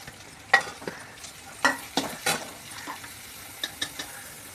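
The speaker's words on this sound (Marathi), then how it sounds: "हळदी आणि टोमॅटो पुन्हा एकदा चांगलं परतून घ्यायचं" Tomato and turmeric are stirred and sautéed with fish, a soft sizzle under a string of sharp spatula scrapes and clinks against the pan, close and irregular, with no talking.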